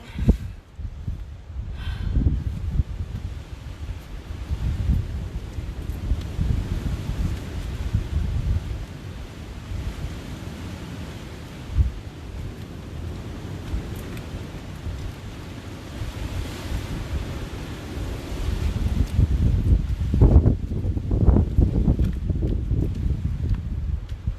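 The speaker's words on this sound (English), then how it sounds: "I don't even know if you guys can hear me because it's so windy" Strong wind buffets the microphone outdoors in a loud, continuous rumbling roar, with gusts swelling and easing throughout.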